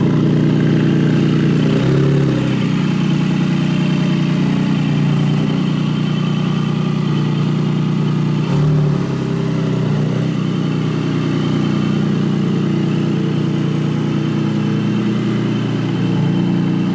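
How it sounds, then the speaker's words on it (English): Porsche 718 Spyder flat-six fitted with an Akrapovic exhaust, idling steadily through a cold start with a deep, continuous drone and brief dips in pitch, loud and close with no talking. "we're gonna do a cold start in a moment, but an Akrapovic exhaust that'll really open up that flat six"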